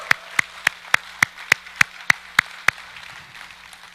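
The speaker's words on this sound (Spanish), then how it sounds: "Dale el aplauso al Señor." Sharp, evenly spaced claps at a church service ring out in a steady beat, about ten crisp hits in a row at a brisk tempo, then stop, leaving faint room sound.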